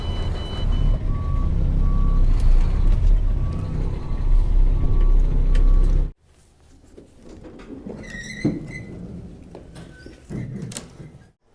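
A truck at a dirt-moving job starts up and idles loudly for several seconds, then cuts out, leaving quieter outdoor background with intermittent reversing beeps.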